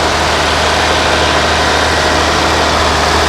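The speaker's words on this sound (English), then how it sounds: "just having a good time watching these tractors plow the land" An antique tractor engine at a plow day in northern Maine's St. John Valley, a loud, steady, close rumble that runs unbroken with broad noisy texture and no voices.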